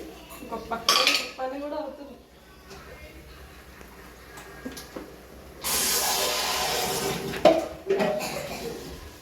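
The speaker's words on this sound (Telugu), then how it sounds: "సో గిన్నెలన్నీ కడిగేసి" Pots, pans and cutlery being washed in a home kitchen: clinks and clatters, a burst of running water hissing for a couple of seconds, and a voice briefly heard in the background.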